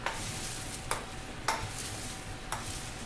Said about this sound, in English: I'm just using this roller to just mix this.